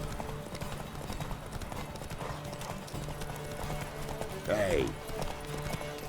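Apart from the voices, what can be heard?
horse galloping in video game The Witcher 3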